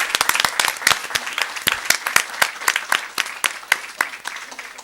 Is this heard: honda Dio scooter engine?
no